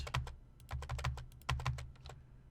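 Quiet computer keyboard typing while writing code, a quick irregular run of soft key clicks with short pauses, close and alone without talk.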